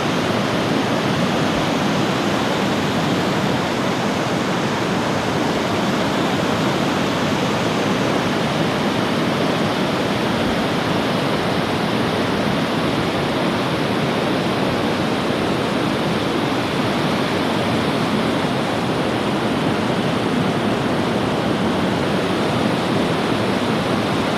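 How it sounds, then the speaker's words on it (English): A small waterfall at Minnewaska State Park rushes steadily and loudly, a constant roar of falling water with no pauses. "Little waterfall!"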